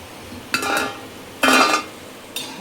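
Crispy fried raw banana pakoda dropped into a vessel makes three short, close clattering rattles separated by brief pauses in a quiet kitchen.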